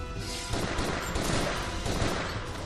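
Rapid gunfire crackles in dense, overlapping bursts during a battle in the video game Final Fantasy Type-0, loud and continuous throughout.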